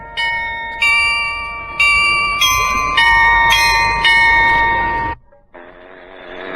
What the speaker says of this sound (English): Those bells are over there on the Netherlands Pavilion.